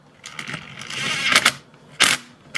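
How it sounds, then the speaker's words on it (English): A 12mm bolt on an Acura RSX Type S starter is tightened with a ratchet, giving a run of rapid clicking ratchet strokes followed by a couple of separate metallic clacks, close up and without talking. "Tighten down that 12mm bolt down"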